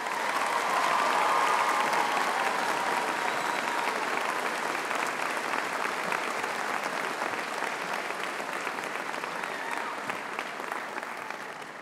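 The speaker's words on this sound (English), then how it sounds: "I think Poppy deserves yet another round of applause, don't you?" An audience at a university graduation ceremony breaks into sustained, steady applause that fills the hall for several seconds, holding loud and even before easing slightly toward the end.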